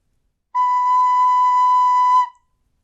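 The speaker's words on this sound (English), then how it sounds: "if I play a note on my tin whistle" A single sustained note played on a tin whistle sounds alone, clear and steady in pitch, holding for just under two seconds before stopping cleanly.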